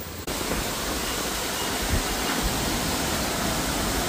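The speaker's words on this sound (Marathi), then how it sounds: "किती मस्त वॉटरफॉल आहे" A roadside waterfall in Harsul ghat during rain, a constant broadband rushing roar of falling water, steady and enveloping with no pauses.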